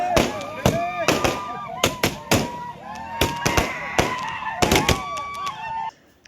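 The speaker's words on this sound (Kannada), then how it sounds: "ಫಲಿತಾಂಶ ಬರುತ್ತಿದ್ದ ಹಾಗೆ ಪಟಾಕಿ ಸಿಡಿಸಿ ಮೆರವಣಿಗೆ ಮಾಡಿ ಸಂಭ್ರಮಿಸಿದರು" Firecrackers burst in rapid, irregular volleys at a village celebration after a BJP win in a cooperative society election, sharp loud cracks repeating throughout with crowd noise beneath.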